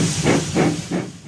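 Thomas the Tank Engine, a steam locomotive from a children's railway setting, chuffs out steam in three loud, rhythmic hissing puffs, close and alone.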